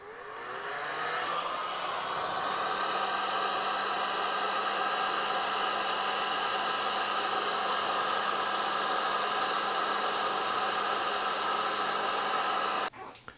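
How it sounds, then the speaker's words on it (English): A heat gun blowing to shrink heat-shrink tubing on the wiring of a 2017 Gibson Flying V guitar, a steady close whooshing roar that holds for about twelve seconds before it is switched off. "now I'm going to turn on my heat gun and just hit those two parts with the shrink wrap"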